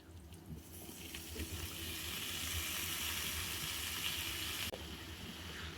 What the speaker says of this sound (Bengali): এখন আমরা সিদ্ধ আলুগুলা দিয়ে দিব